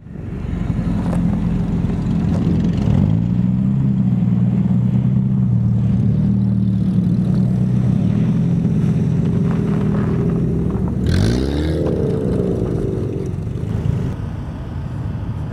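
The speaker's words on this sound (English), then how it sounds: "there was ice racing in Maple Grove" Race car engines roaring at an outdoor ice race in Maple Grove during a winter carnival, a loud continuous rumble with a car passing close and revving near the end.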